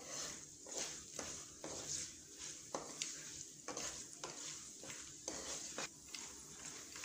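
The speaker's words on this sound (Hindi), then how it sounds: "अब हम इसमें किशमिश डालेंगे।" Raisins fry in hot ghee in a pan for kimami seviyan, giving a steady sizzle broken by regular scraping stirs of a spoon, close and fairly quiet.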